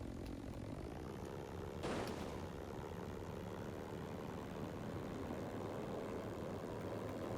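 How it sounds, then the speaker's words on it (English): HMX 920 propeller plane in BeamNG.Drive, a steady droning engine and propeller hum throughout, with a brief brighter burst near the two-second mark, continuous and fairly loud, no talk. "So let's give this plane a test here."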